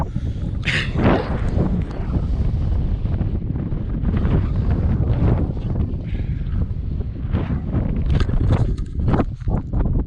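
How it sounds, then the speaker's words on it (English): Strong wind on Stiperstones hill buffets and roars across the microphone continuously, loud and rumbling, with gusty swells and no clear talking. "it is windy as hell"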